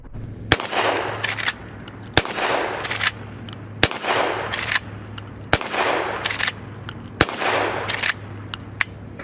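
Henry Axe .410 lever-action shotgun firing six loud, sharp shots at roughly even intervals of about a second and a half, each blast followed by a brief ringing decay and the clack of the lever cycling.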